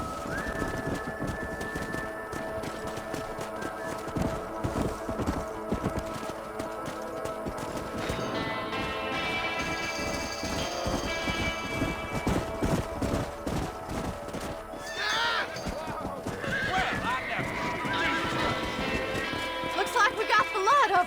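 Horses gallop in the video game Red Dead Redemption, with continuous hoofbeats and action noise under a busy game soundtrack, and a brief higher cry that could be a neigh toward the end.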